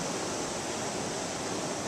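Mill River in Newfoundland running during a salmon run, a continuous broadband rush of flowing water, steady and fairly close, with no voices.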